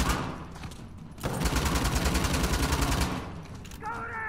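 Gunfire in the video game Uncharted: The Lost Legacy erupts as a dense rapid burst of shots, loud and sustained for a couple of seconds amid a noisy firefight backdrop.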